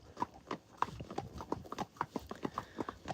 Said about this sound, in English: clip-clopping along the road